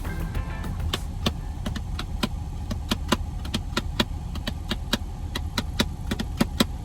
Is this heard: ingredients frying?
no